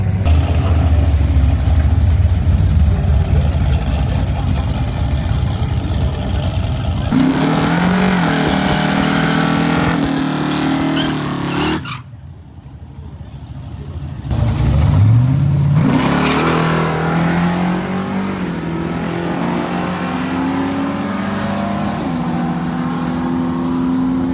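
A drag car on a drag strip pass revs hard and accelerates, its tires spinning a little, drops off abruptly, then roars back up and holds a steady drone as it drives on.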